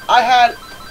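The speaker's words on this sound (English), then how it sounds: "my phone goes off like every time I go to record a video" Phone ringtone going off indoors, a single short bright electronic ring burst, fairly loud and close, then fading to quiet room noise.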